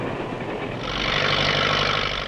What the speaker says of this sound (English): Over the old right-of-way moves the new train